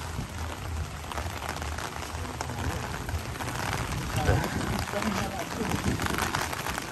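Rain falls steadily at a rowhouse construction site, a continuous hiss and patter with scattered harder drops, lasting throughout with a voice speaking partly underneath.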